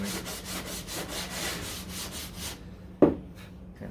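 Rhythmic back-and-forth hand sanding of body glaze on the front end of a 1969 Chevrolet Corvette C3, steady rasping strokes that stop, followed by a single sharp knock.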